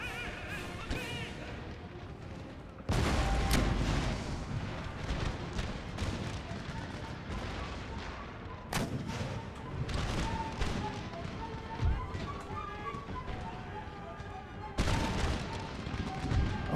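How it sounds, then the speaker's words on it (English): Artillery cannon fire on an Empire: Total War battlefield, several booming blasts and thuds scattered over a constant din of battle noise, with distant crackling musketry in between. "Here comes some more quicklime for the artillery. Another direct hit."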